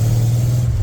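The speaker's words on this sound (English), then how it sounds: "He likes them rev matches," A 1986 Ford F150 with a 351W V8, glass pack mufflers, long-tube headers and an X-pipe rumbles steadily at a low, loud idle-level drone during a brief rev match.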